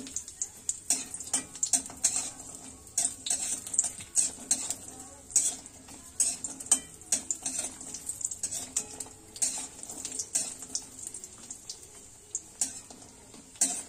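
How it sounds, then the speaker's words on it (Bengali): Urad dal bori, small sun-dried lentil dumplings, frying in oil in a pan, a steady close sizzle broken by frequent clinks and scrapes of a spatula stirring against metal, with no talk. "এবার আমি বিউলির ডালের বড়ি ৫-৬টা দিয়ে এগুলো একটু ভেজে তুলে নেব"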